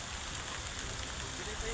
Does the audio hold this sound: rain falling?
yes